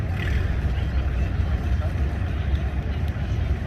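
An antique tractor in the 2500 to 3000 lb class runs at full throttle during a tractor pull, a loud throaty engine roar that stays constant, heard from a distance with a voice talking over it.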